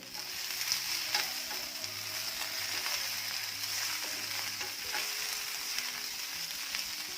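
Okra fries over medium heat in a pan with a continuous close sizzle. Faint scraping from stirring runs underneath, and there is no speech.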